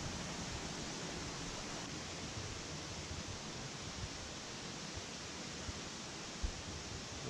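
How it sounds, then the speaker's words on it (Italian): A 186-metre waterfall in Guatemala roars as a dense, steady wash of broadband noise, heard from a distance with no voices. "Questa cascata è alta ben 186 metri, è forse la più alta del Guatemala."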